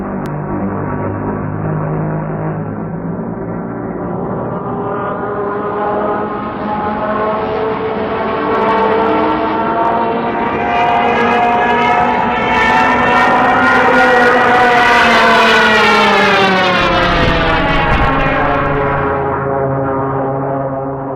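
A World War II dive bomber with siren horns mounted on its wings lets out a loud, sustained wail that climbs steadily in pitch and swells in volume, then drops away sharply near the end.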